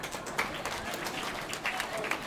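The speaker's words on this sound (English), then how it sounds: "Let's give her a round of applause, please." An audience at a graduation ceremony applauds, a dense wash of clapping that stays fairly even, with a few louder bursts and some faint voices mixed in.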